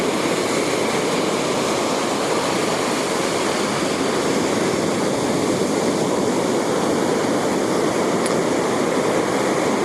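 Ocean waves at Calangute Beach, Goa, a continuous loud wash of surf roaring steadily without breaks, close and enveloping, with no voices.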